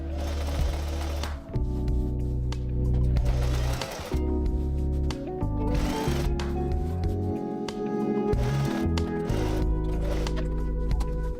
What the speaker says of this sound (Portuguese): Então agora eu vou alinhavar e vou costurar